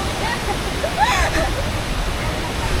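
Casa Roro waterfall in Dumaguete roars as a steady broadband rush of falling water, close and constant, with faint voices mixed briefly in the middle.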